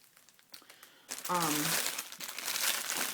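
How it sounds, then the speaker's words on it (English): Plastic packaging around a lavender chamomile wax loaf crinkles and rustles as it is unwrapped. The crinkling starts abruptly after a quiet moment and stays loud and close, with a brief voice sound mixed in. "I'm going to actually unwrap it."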